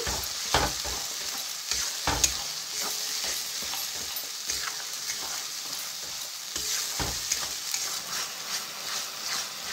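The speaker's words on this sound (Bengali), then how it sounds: "পেঁয়াজ বাটাটা দিয়েও আমি ভালো করে মিক্স করে নিচ্ছি" Onion paste frying in a pan for a doi rui (rohu fish in yogurt) dish, with steady close sizzling under intermittent scraping strokes of a spoon stirring it throughout.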